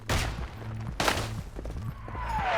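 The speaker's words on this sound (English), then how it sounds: "Oh, jeez. Artillery." Artillery and gunfire rattle in a video game shooter, with sharp loud impacts near the start and around the one-second mark over a droning low engine-like tone and scattered smaller pops.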